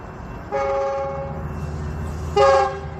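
Train horn sounding twice from an approaching train, each blast a sustained harmonic tone, the second louder and nearer, over a low rumble; no talking.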